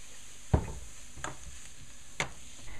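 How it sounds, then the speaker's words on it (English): Garlic sautéing in olive oil in a pan, a faint steady sizzle broken by a few distinct stirring clinks. "And let's go ahead and add our garlic."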